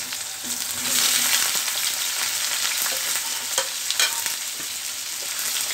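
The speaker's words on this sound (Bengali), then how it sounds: "বেগুন গুলা ভেজে নিব," Eggplant frying in hot oil in a pan with turmeric and salt, a steady loud sizzle broken by scraping stirs and small pops.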